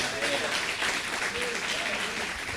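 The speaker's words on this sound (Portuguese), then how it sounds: "Então vamos dar uma salva de palmas para Jesus" A church congregation claps together in a brief burst of applause, a dense, steady wash of hands with voices audible alongside it.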